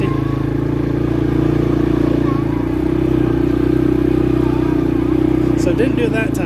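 A 2022 CForce 500 ATV in two-wheel drive grinds up an incline on a camping trip, its engine holding a steady loud drone with some clatter, a voice briefly heard near the end.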